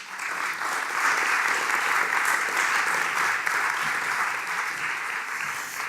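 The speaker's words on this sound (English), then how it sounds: "Give them a warm applause." Audience applause greets a panel at a Dutch graphic design culture event as the members walk onstage, a steady, dense wash of clapping held at even loudness throughout with no voices over it.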